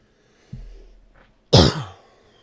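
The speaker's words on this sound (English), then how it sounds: "Coughed immediately." A person gives one short cough and then a single harsher, louder cough a second later, close by, with no talking.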